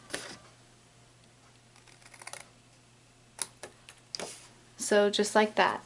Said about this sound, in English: you're going to cut the little triangles out